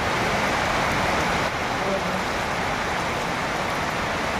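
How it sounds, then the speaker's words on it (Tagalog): Very heavy rain pours down in a steady, loud broadband wash that does not let up, with a voice speaking faintly under the downpour. "hindi po natin inaasahan itong ganito na aabutan tayo ng napakalakas na ulan"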